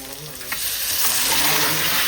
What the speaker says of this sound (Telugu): సో ఫైనల్ గా ఆనియన్స్ అయితే ఫ్రై అయిపోయి ఈ చికెన్ అందులో వేసేద్దాం